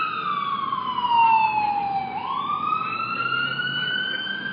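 A single emergency siren near a Honolulu park sweeps slowly down then back up in pitch, loud and fairly close over a low hum of traffic.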